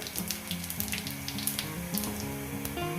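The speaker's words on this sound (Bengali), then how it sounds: "এখানে জিরে গোটা জিরে ফোড়ন দিলাম" Whole cumin seeds tempered in hot oil, in a pan where fish has just been fried, giving a close, continuous sizzle and spatter with light crackles throughout.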